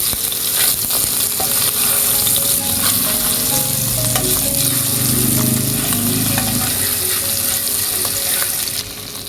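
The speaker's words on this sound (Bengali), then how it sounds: "এখন আমি সামান্য পরিমাণে একটু হলুদের গুঁড়া দিব এবং মাছের মাথাগুলোকে একটু নেড়ে চেড়ে নেব" Fish heads frying with turmeric powder in a pan for a moong dal muri ghonto, a loud continuous sizzle with scraping stirring strokes and occasional clinks, close up and steady, no talking.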